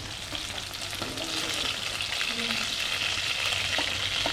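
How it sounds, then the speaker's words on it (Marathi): Barramundi fish pieces sizzle steadily in hot oil in a pan, with occasional scrapes and knocks as they are turned over, the frying loud and continuous throughout. "आपण फ्राय फिरवणार आहोत"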